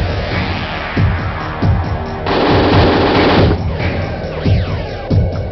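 Sustained machine-gun covering fire in the 1998 video game Tellurian Defence, loud and close, with rapid bursts, a dense sustained volley in the middle, and explosive booms, heard without speech.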